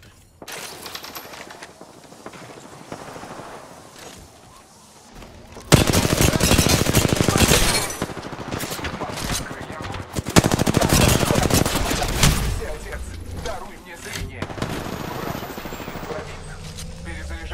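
Rapid automatic gunfire bursts in a shooter video game, loud and dense from about six seconds on after quieter stretches, with brief pauses and players shouting over it.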